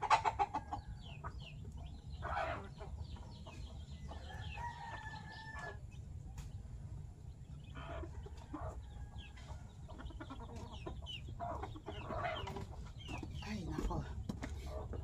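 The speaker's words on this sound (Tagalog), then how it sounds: "Ito yung inahin na matapang." A protective mother hen clucks among her growing chicks at a farmyard, with repeated close clucks, chick peeps and a rooster crowing in the background, under a person talking.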